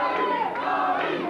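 A wrestling arena crowd chants in unison, a dense, loud roar of many voices that carries on without a break through the short moment.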